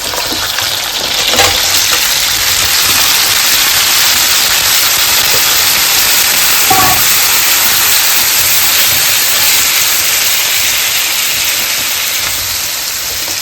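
Seafood and fish hitting a hot pan for a fideuá, a steady loud sizzle and hiss of frying that holds evenly with a brief splutter partway through.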